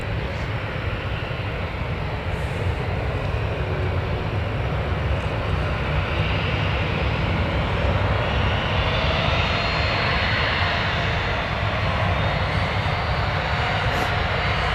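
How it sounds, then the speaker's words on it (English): Loganair aircraft on approach to land at Newcastle Airport, a broad steady engine roar that swells slightly midway, continuous and fairly distant, with no voices. "So the Loganairs are approaching finals now."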